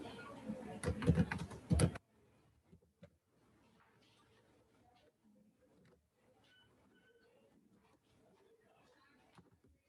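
Computer keyboard in a beauty parlour training class, a brief close burst of busy clattering keystrokes at the start, then a faint, sparse room tone with scattered small clicks.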